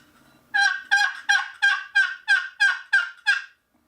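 Nine rapid, raspy yelps from a Mad Boom Box turkey box call in an even rhythm, loud and close, then silence.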